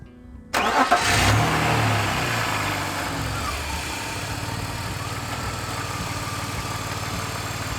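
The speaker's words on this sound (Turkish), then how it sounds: "Bir de arabayı çalıştırıp sesini duyalım." A cheap older BMW with its centre exhaust hanger removed cranks and fires up, settling into a steady, fairly loud idle that runs on alone.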